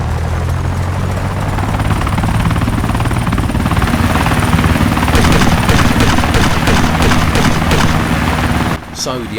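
An Osprey tiltrotor aircraft flies in the DayZ video game, a loud, steady rotor thrum and engine roar filling the scene, with a sharp change near the end.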